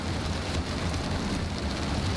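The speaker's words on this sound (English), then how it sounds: "And it's raining." Steady rain drums on a car during a drive, a dense continuous hiss with a faint low rumble, heard alone without voices.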